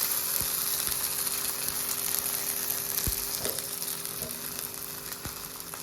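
Ragi flour bun dosa fries in a pan with a steady, close sizzling hiss, broken by a few soft clicks and scrapes, loud and even throughout with no talking.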